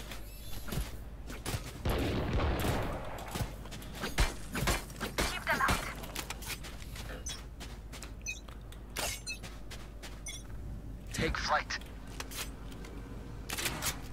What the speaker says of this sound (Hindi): धमाके ही धमाके